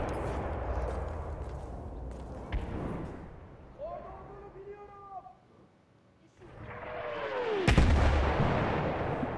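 Gunfire in the Battlefield 1 first-person shooter game, loud booming shots and thuds over a rumbling battlefield bed, with a pause of quieter tones before another heavy blast.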